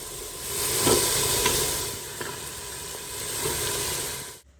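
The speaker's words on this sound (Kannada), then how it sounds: "ಇವಾಗ ಇದಕ್ಕೆ ಎಲ್ಲ ತರಕಾರಿನ ಸೇರಿಸ್ಕೊಳ್ತೀನಿ. ಬಟಾಣಿ ಎಲ್ಲವನ್ನು ಸೇರಿಸ್ಕೊಳ್ಳೋಣ." Chopped vegetables and green peas tipped into a hot pan crackle with a steady, close sizzle and frying hiss that holds for several seconds, broken by a few soft stirring knocks, then cuts off abruptly.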